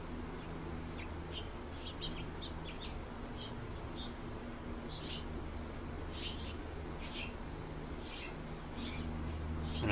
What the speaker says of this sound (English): And I'm aware of the bird.